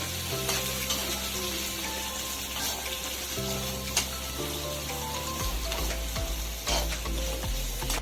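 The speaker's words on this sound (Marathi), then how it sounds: "आता आपण ह्याच्यामध्ये कांदा आणि शिमला मिरची टाकून घेऊया आणि दोन्ही पण तेलामध्ये फ्राय करूया" Onion and capsicum sizzle and crackle in hot oil, a steady frying hiss with stirring scrapes throughout and a low hum beneath.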